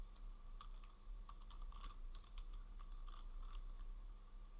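A computer keyboard being typed on as a prompt is entered: quick, irregular light clicks in short bursts, fairly faint against a low steady hum.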